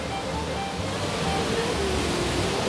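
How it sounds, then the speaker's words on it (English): Lost Creek Falls in White County, Tennessee, heard from a shallow cave behind the falling water: a steady, dense, loud roar of water with no pauses. "Little shallow cave that goes behind the waterfall."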